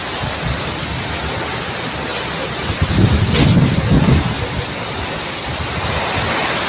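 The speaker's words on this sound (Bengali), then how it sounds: "জলে ঝাড় লেগে যাচ্ছে চারপাশে।" A storm over water, with a constant loud wind roar and rushing surf, swelling for a moment midway and buffeting the microphone.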